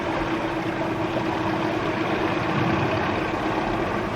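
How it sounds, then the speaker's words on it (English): Another boat approaches out at sea as a steady, low idling engine hum, a constant droning tone held evenly throughout, fairly quiet and with no talk. "Another boat."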